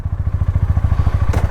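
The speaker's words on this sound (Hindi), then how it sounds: "रॉयल एनफील्ड वाले होंडा हाइनेस का एग्जॉस्ट नोट सुन के थोड़ा से चौंक जाते हैं।" A 2023 Honda CB 350 Highness motorcycle, heard as a deep, steady thumping exhaust beat from its single-cylinder engine, close and loud, with a brief higher rasp near the end.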